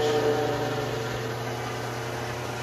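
A milling machine spinning a 14-inch PCD surfacing flycutter, winding down after cutting aluminum; a steady mechanical hum with a whine that slowly fades as the spindle coasts toward a stop, no voices.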